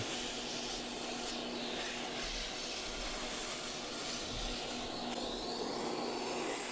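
A vacuum cleaner sucks debris out of a 24-inch Pierce Audio subwoofer under repair, giving a loud, steady, unbroken roar with a faint tonal whine throughout.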